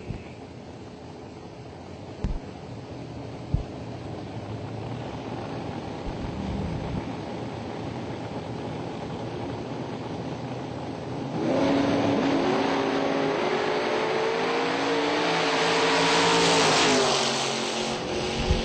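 A short-wheelbase drag racing car with a 600 cubic inch motor at a drag strip in Commerce, Georgia roars steadily under heavy wind noise, then swells into a louder, rising engine howl for the last several seconds.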